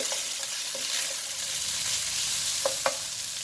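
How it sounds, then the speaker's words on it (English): Vegetables for chicken lo mein sizzle steadily in a hot pan while being stirred, with a constant frying hiss and a few light scraping clicks from the utensil, close and with no talk. "I'm just giving them a quick stir to soften the vegetable."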